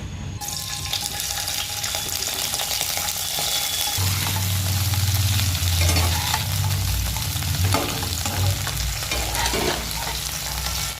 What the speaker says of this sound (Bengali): টুকরো করে কেটে রাখা ব্রোকলিগুলোকে দিয়ে হালকা করে একটু ভেজে নেওয়া হবে